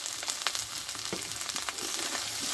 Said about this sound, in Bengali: দিয়ে মশলাটা ভালোভাবে কষে নেবো আমি